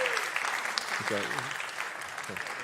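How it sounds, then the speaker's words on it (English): A jazz master-class audience breaks into applause, a dense, steady patter of many hands at moderate distance that carries through the clip while someone speaks over it briefly. "Give him a round of applause"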